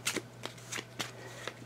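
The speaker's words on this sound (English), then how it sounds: "I'm just shuffling them up to make them a little more shuffled as we go" A deck of game cards being shuffled by hand, with quiet riffling bursts repeating about every half second over a steady low hum.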